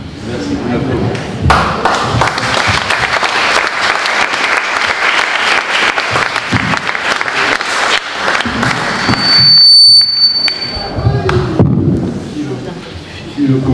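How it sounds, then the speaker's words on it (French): Lecture audience applauding at the end of a talk on Marx and his times, a loud, dense burst of clapping lasting several seconds, then fading into a quieter stretch where a voice begins speaking. "Merci pour l'applaudissement"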